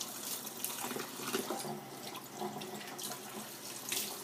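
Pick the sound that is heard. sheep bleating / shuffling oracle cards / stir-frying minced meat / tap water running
tap water running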